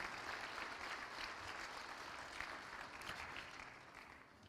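Church congregation applauding together in a worship service, a steady dense wash of many hands clapping that holds evenly throughout and eases slightly toward the end.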